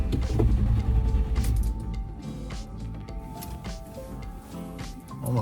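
Land Rover Discovery 1 engine cranking over but failing to start after being refuelled, a continuous loud churning motor whir that holds steady for several seconds.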